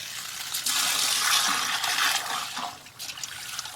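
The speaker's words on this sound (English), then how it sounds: "stir up all the sand in the aquarium, and then just dump it out while pouring in water" Water pours and gushes into an aquarium to rinse sand substrate, a steady splashing wash that swells and fades over a few seconds with no voices.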